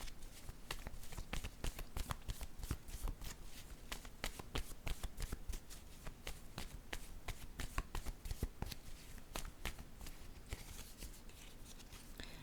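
A deck of cards is shuffled for a card reading: a close, steady run of crisp riffling and flicking slaps that carries on for about twelve seconds with no voices.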